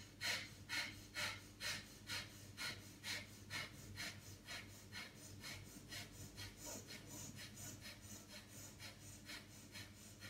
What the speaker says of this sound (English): So take a deep breath in, exhale halfway, and begin.